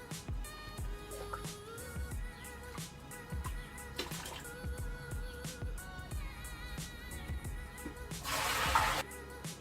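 Water pours and splashes into a keg being filled for a sight gauge build, with intermittent trickles, drips and clunks, then a louder rushing burst near the end.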